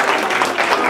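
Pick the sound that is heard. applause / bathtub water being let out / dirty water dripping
applause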